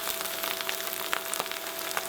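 A salmon fillet goes skin side down into a warm pan and sears with a steady, soft sizzle and small crackles throughout, with no voice over it.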